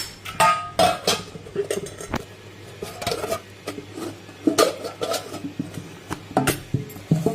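Bowl being covered with a lid while preparing steamed prawns, several clinks and knocks of metal and crockery with short gaps, close and fairly loud, in a quiet kitchen.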